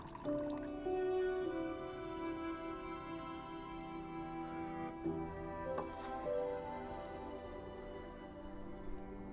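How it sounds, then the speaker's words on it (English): Water pours from a metal pot into a bowl, a steady trickling and dribbling stream with drips, close by and alone, with faint clinks partway through. "Pours water into it from the metal pot."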